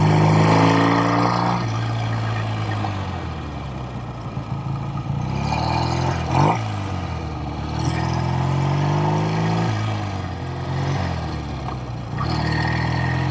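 Vintage BSA Thunderbolt motorcycle engine on a ride, a close, continuous mid-pitched drone that rises and falls as the rider shifts gears and opens the throttle, with a brief bump midway.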